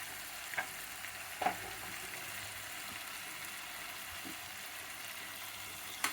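Capsicum pieces with ginger garlic paste fry in a pan as a quiet, steady hiss of sizzling, with a few faint clicks of a utensil, and no speech.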